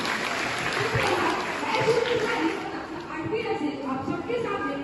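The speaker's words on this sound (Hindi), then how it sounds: "जोरदार तालियां।" Students at a school Hindi poetry recitation event applaud for a classmate, a sustained wash of clapping in a hall, with a voice speaking over it near the end.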